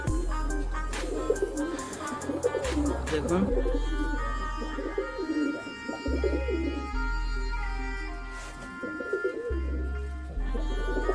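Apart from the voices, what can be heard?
domestic pigeons cooing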